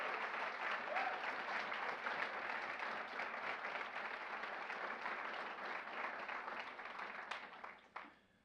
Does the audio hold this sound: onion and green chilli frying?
no